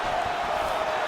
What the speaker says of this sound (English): The crowd's going crazy because they just saw two high-level grapplers mix it up on the ground.